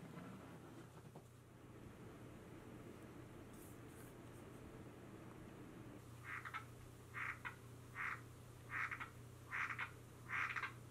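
A frog croaks in a series of six short, rhythmic calls, fairly close and clear over a steady low background hum, with no talking.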